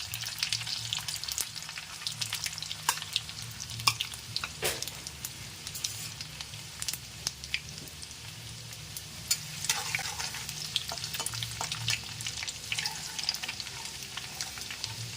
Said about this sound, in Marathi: तर सर्वप्रथम आपण थोडीशी मोहरी, थोडंसं जिरं घालणार आहोत. त्याचबरोबर चिरलेला बारीक लसूण